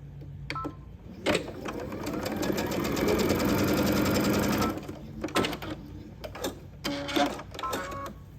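A sewing machine stitches tote bag sections together in a steady, close whirring run of a few seconds, followed by shorter stop-start bursts of stitching.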